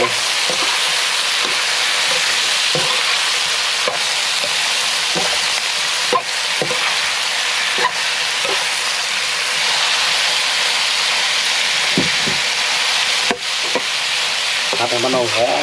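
Seasoning sizzles and fries steadily in hot oil for jungle-style BBQ chicken, with a loud continuous crackle and a few faint scrapes of stirring.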